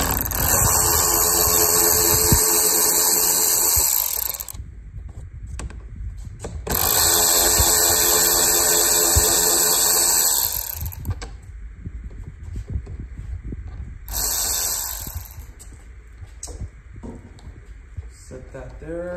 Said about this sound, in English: Next thing we're going to want to do is remove the glove box with a T25 Torx.